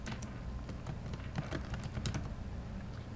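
Quiet, rapid keystrokes on a computer keyboard while filling in an event name on a room reservation form, a dense irregular patter of soft taps with a few sharper clicks, close and alone.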